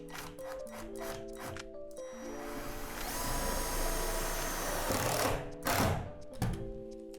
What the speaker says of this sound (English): Secure the gable to the hinge tube by inserting a self-tapping screw here.